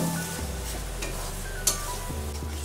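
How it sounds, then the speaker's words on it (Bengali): Tomato, chili powder and salt paste poured into a hot pan for chilli chicken, setting off a steady close sizzle with stirring scrapes and one sharp clink of a utensil midway. "এবারে টমেটো, লঙ্কার গুঁড়ো আর নুনের যে পেস্টটা করে রেখেছিলাম সেটা ঢেলে দেব।"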